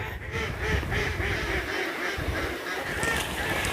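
A flock of ducks keeps up a busy stream of overlapping quacks and honks outdoors on sunny castle parkland, moderately loud and close, with no voices over them.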